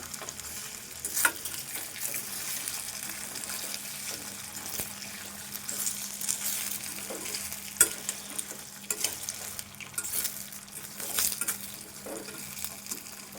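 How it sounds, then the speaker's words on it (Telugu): Potatoes fry in oil in a pan over a low flame, giving a quiet, steady sizzle broken by occasional scrapes and taps of stirring. "కొంచెం స్టవ్ సిమ్లో పెట్టుకొని ఫ్రై చేసుకోవాలి."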